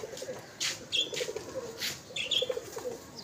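Pigeons cooing softly at close range, a few low throaty coos spaced irregularly, with brief chirps and a quick flutter of wings against a quiet background.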